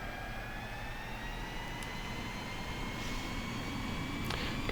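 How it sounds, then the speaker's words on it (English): A jet engine on an L-39 trainer in the LotusSim flight simulator spools up steadily, its rising tonal whine climbing in pitch over a constant roar, heard alone at moderate level with no talk. "let the engine spool up all the way. The engine has a 10-second spool time."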